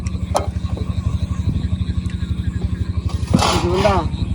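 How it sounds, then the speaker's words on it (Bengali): A trawler boat's engine putters past on a river, a steady low rhythmic chugging heard close, with people talking over it toward the end. "নদীতে ট্রলার যেতেছে, ট্রলার।"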